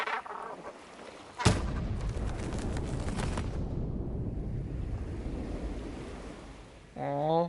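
A loud explosion in the Assassin's Creed Shadows video game bursts out suddenly, then a long rumbling, roaring wash of debris and wind-like noise trails off over several seconds, ending with a brief tonal sound.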